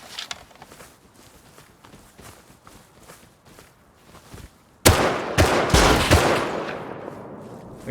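Gunfire in the video game Rust comes as a faint run of rapid shots, then louder close bursts that ring out toward the end.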